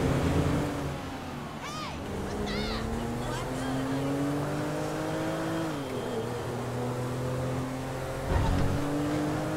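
A car driven in GTA 5 holds a steady engine drone that rises and shifts in pitch as it revs, with a thud near the end and someone speaking over it.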